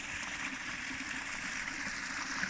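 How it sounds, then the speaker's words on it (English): A small stream runs near a woodland cabin, a faint, steady trickling and rushing wash of water with no other sounds. "We got a little stream."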